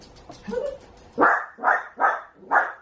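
A male dog barks four times in a steady rhythm, loud and close, in a quiet room indoors, with a faint whine or yip just before the barks.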